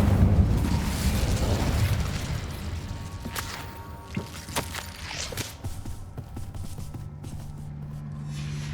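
A fire spell cast in Hogwarts Legacy: a loud whooshing burst at the start, followed by crackling, scattered pops and thuds, with a low hum lingering throughout.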